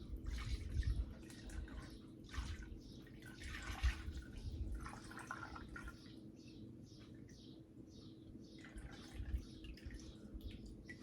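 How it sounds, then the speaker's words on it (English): Bone broth poured slowly into a shallow pan in a home kitchen, a soft continuous trickle and faint dripping that runs steadily for several seconds, quiet and close with no talking. "So you want to slowly pour your broth in."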